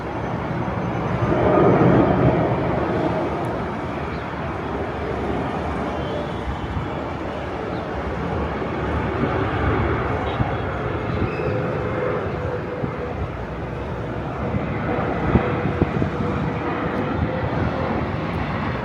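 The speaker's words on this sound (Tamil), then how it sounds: "இந்த சான்ஸுக்கு ஒரு ஃப்ளைட் ஒன்று வருது." An airplane passing overhead, a broad low engine rumble that holds steady and fairly loud across the whole stretch, swelling slightly at times, with no clear speech.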